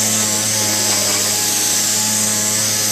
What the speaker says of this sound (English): So we're sanding off the coating.